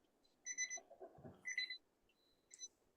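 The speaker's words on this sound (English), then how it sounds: "Do you hear the timer?" Timer alarm ringing in repeated high electronic beeping bursts, three separate rings across a few seconds, fairly faint over a quiet room with a low murmur underneath.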